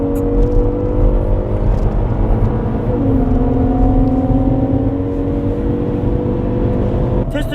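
A Hyundai Grandeur IG with its stabilizer removed drives a test lap on a race circuit, engine droning steadily with a sustained tonal whine that shifts pitch midway, close and loud throughout.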